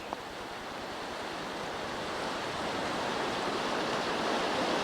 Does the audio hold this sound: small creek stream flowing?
yes